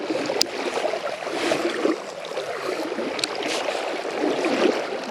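Legs wading through a flowing river while fishing, with steady splashing and swishing water close by, surging and easing in broad strokes with a few sharper splashes.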